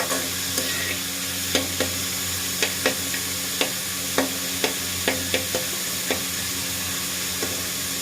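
Finely chopped onions frying in a pan toward light golden: an even close sizzle with a regular series of spatula clicks and scrapes against the pan roughly every half second.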